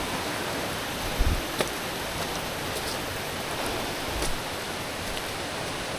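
Water runs beneath rocks at a stream, a steady hiss of flow with a couple of faint knocks and splashes, fairly close and without talk.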